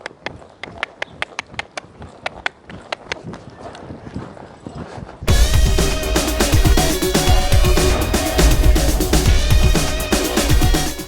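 Hooves of a ridden horse at a calm lope, or canter, give crisp, evenly spaced clip-clop strikes, close and distinct over a quiet background for about five seconds before loud music abruptly takes over and buries them.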